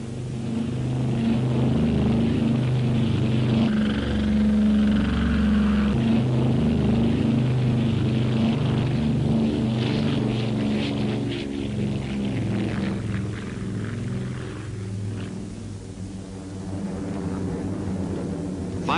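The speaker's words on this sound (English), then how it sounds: "Midway-based planes began flying search missions" Propeller planes flying search missions from Midway in 1942, a steady loud engine drone with layered low hum that holds throughout, swelling and easing slightly without pause.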